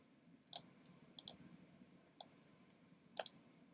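Four sharp, quiet mouse clicks land at uneven intervals as a cursor drags across text in a Photoshop or Illustrator poster layout, close and isolated over a faint room hiss.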